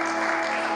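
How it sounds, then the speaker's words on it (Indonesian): Clapping from a congregation at a church youth worship service gives a brief, dense and steady burst of applause at close range. "Tepuk tangan buat Tuhan yang baik"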